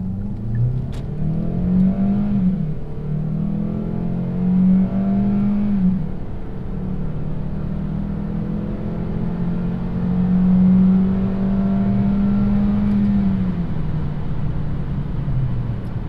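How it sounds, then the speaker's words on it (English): A 2014 Hyundai Santa Fe Sport FWD accelerates hard from inside the cabin, its engine drone rising in pitch, dropping at each of several gear shifts, then climbing again, steady and fairly loud with no talking. "we'll do a quick acceleration and go up through the gears"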